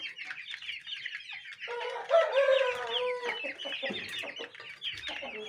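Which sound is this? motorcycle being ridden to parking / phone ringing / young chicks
young chicks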